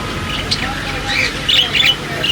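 Pigeons in a bird shop on GT Road, Wah, Rawalpindi, give short squawking calls and chirps over steady shop background noise, fairly close and moderately loud.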